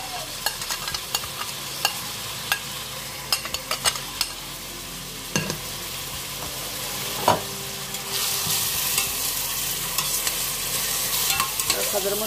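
Chopped onions dropped into hot oil in a pan for a lamb curry, a close, steady crackling sizzle with scattered pops and stirring, swelling louder and denser toward the end, with no talking.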